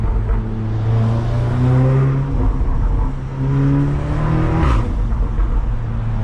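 A 2017 facelift Audi S3 with a burble tune drones loudly from inside the cabin, engine pitch climbing and dropping through shifts and downshifts with rough exhaust rumble.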